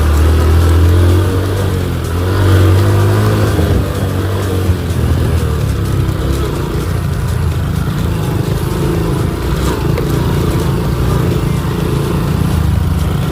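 A high-clearance motorcycle climbs a steep uphill track in first gear toward the Talon Pari Falls entrance, its engine a steady, loud, close rumble throughout.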